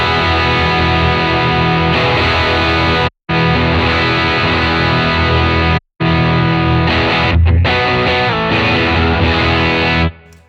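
Loud electric guitar through a Nobels ODR-1 overdrive capture on a Cortex or Tonex, thick saturated distortion, playing continuously with two brief silent gaps between passages.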